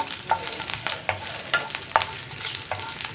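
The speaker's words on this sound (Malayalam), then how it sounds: "നമ്മളിപ്പോൾ പാനിൽ വെളിച്ചെണ്ണ ഒഴിച്ച് ചൂടാക്കി അതിലേക്ക് നമ്മുടെ ഇഞ്ചി, അതുപോലെ തന്നെ പച്ചമുളക്, ഉള്ളി, പിന്നെ നമ്മൾ എടുത്തു വെച്ചിരിക്കുന്ന വറ്റൽമുളക് ഇത്രയും ചേർത്ത് ഒന്ന് ചൂടാക്കി എടുക്കുക" Ginger, green chili, onion and dried chili fry in hot coconut oil in a pan, a steady sizzle broken by scraping stirs every half second or so, close and with no voices.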